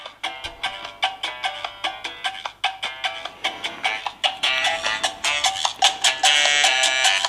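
Music plays from the small built-in speaker of a Chuwi VI7 seven-inch phablet turned to full volume, with bright, thin, rhythmic tones pulsing in a quick regular beat and no bass.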